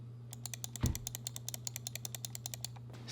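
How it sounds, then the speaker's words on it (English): Typing on a Womier GamaKay K87 mechanical keyboard produces a steady run of evenly spaced, close, crisp keystrokes with one heavier thump early on, with no voices. "let's move on to how the keyboard sounds"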